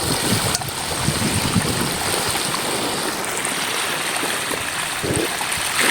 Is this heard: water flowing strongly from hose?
yes